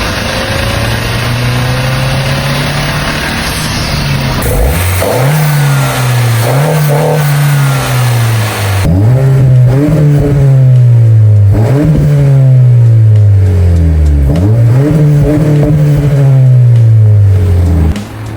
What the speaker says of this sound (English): Getting into boost and rolling through gears is really fun.